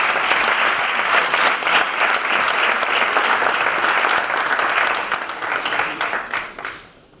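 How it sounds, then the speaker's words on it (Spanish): Warm applause for a club president at a Real Club Deportivo foundation book presentation, a roomful of people clapping steadily and loudly before thinning out and fading away at the end. "un aplauso para o señor presidente"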